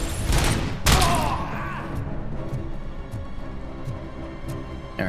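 Bursts of heavy machine gun fire in a RoboCop video game, two loud impacts up front, then a quieter stretch with scattered distant shots.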